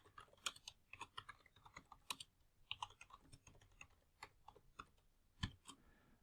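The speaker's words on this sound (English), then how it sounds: "They can type their reply and then click send" Keys clatter on a computer keyboard as a reply is typed into a Microsoft Teams post, a quiet, uneven run of close clicks with brief pauses and one heavier keystroke near the end.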